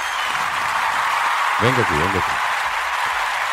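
Audience applause at a celebratory event fills the room as a steady wash of clapping, with someone speaking briefly over it.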